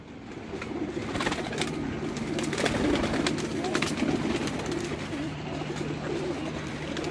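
Lal Toofan pigeons coo steadily in a rooftop loft, their low rolling calls filling the whole stretch, with occasional wing flutters, close and fairly loud against a constant background.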